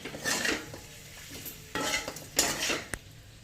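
Kashmiri chili and a little sugar stirred into chicken jalfrezi in a pan, with a utensil scraping and clinking against the metal in short bursts and a faint sizzle underneath.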